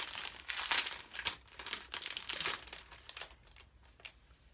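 Packaging around a soft puffy Mikasa makeup brush is pulled open, giving close crinkling and crumpling plastic bursts in irregular clusters that fade toward the end, with no talk over them.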